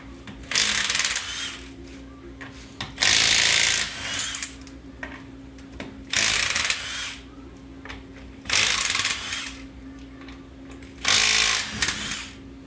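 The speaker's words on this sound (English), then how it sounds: "First, we're gonna take off the tire, 21 millimeters, with our Milwaukee half-inch mid-torque." A Milwaukee half-inch mid-torque impact wrench takes 21 mm lug nuts off a 2005 Toyota Camry wheel in five loud, close bursts of rattling hammering, with quiet pauses between them.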